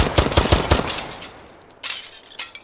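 An AR-18 rifle fires in the shooting game H3VR, a quick run of close, sharp automatic shots followed by a couple more separate bursts and a decaying rattle.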